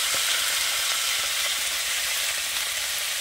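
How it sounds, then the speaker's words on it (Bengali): Cauliflower and potatoes fry in a pan with cumin, giving a steady, dense sizzle that holds at an even loudness throughout, close up and with no voices. "এবারে আমি একবারে বসিয়ে দেবো ফুলকপি আর আলু, ভালো করে কষিয়ে আর রান্নাটা করব"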